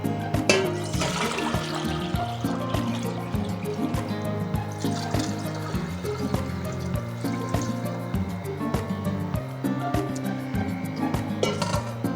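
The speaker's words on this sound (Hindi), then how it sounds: "हाफ जग हमने इसमें पानी का डाला है" Water from a jug pours steadily into a cooking pot of boiled chickpeas for chana pulao, a continuous close splashing trickle lasting the whole stretch.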